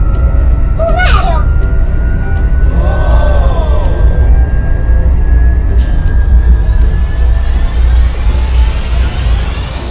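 A cartoonish airplane sound effect from an interactive baby doll toy setting, a rising whistling tone sweeping upward over several seconds, loud, over constant background noise, with a brief chirp and warble earlier.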